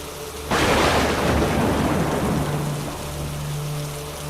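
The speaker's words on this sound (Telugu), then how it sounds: "భారీ వర్షం కురిసింది." Heavy storm rain bursts in abruptly as a loud, dense roar with a low rumble beneath, holding steady and then easing slightly while a faint low hum continues underneath.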